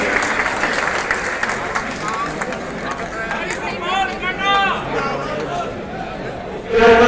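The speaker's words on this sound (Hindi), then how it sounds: "कृपया दो हाथ की जोरदार ताली बजाएं" Steady crowd applause fills the whole stretch, with a voice calling out over it and a brief louder burst at the end.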